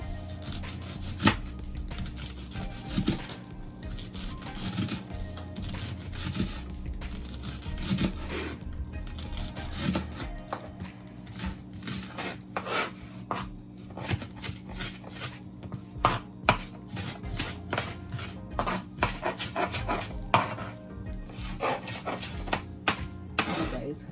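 A knife slices fresh seasoning vegetables, including sweet pepper, into small pieces on a cutting board. The chopping is rapid, irregular and close, speeding up toward the end, with occasional talk in the background.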